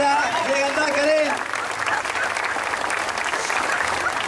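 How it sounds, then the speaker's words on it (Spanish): A crowd in a town welcoming Sebastián home bursts into applause, starting under a shouting voice and continuing as steady, moderately loud clapping. "Fuerte el aplauso en general de esa para Sebastián"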